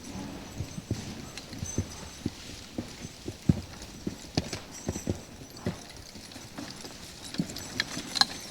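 Draft logging horses Bill and Duke walk on frosty, icy ground, their hooves clopping in a steady, uneven rhythm of close, distinct footfalls with faint background noise.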